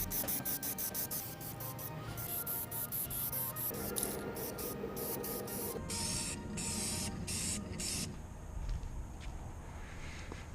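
Krylon spray paint hisses onto an aluminum Smokercraft boat in rhythmic bursts of short and longer sprays, close and steady with brief gaps between passes.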